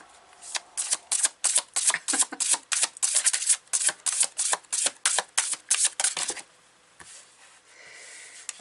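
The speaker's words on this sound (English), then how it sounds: "You'll be happy I can't shuffle it the other way." Thick tarot-style cards are riffled in about fifteen quick, close bursts at a steady rhythm, each a crisp papery flutter, trailing off into quiet handling.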